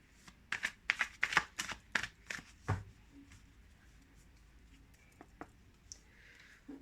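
Tarot cards are shuffled close up in a quick run of crisp riffling flutters and taps, dense at first and then thinning to a few sparse soft clicks, with no talking.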